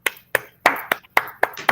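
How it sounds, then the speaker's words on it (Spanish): Sparse handclaps follow a geophysics talk on artificial intelligence, six or seven separate sharp claps spaced unevenly across under two seconds, close and isolated with quiet gaps between. "vamos a darle un fuerte aplauso"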